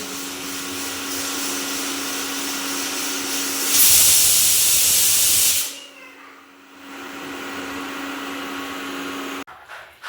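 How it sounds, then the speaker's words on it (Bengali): A pressure cooker holding rice and potatoes steams on a home stove before its whistle. A steady hiss and hum swells into a loud rushing burst of steam midway, then drops back to a quieter hiss. "এখানে প্রেসার কুকারে বসিয়েছি ভাত, এখনো সিটি পড়েনি, পড়বে হচ্ছে।"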